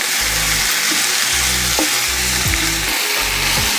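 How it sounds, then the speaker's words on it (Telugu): Pieces of brinjal and onion fry in hot oil with a loud, continuous sizzle, while a spoon stirs and scrapes them in repeated strokes. No one speaks. "వంకాయ ముక్కలు, ఉల్లిపాయ ముక్కలు ఇవన్నీ చక్కగా అటు ఇటు కాస్త తిప్పుకొని వేయించుకుందాము"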